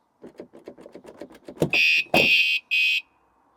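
A rapid string of clicks speeds up, then three loud, piercing electronic beeps sound in quick succession, close by, from a Vanolarm van alarm.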